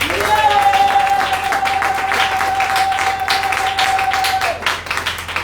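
A church congregation applauds after a scripture reading, a steady burst of many hands clapping for several seconds, with a sustained tone underneath before it fades.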